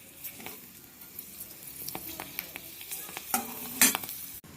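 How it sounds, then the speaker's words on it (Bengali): Small pieces of papad frying in hot oil, with light sizzling and crackling broken by stirring scrapes and clinks, including a louder burst near the end. "পাঁপড়গুলো একটু ভেজে নেব।"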